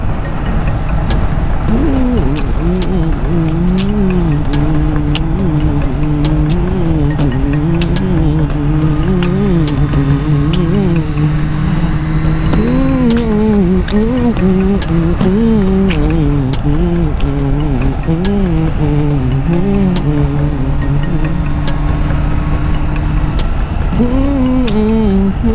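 A Kawasaki H2 Venture motorcycle engine revs repeatedly, climbing and falling in pitch as the throttle is worked toward 12,000 rpm, close and loud over steady idle.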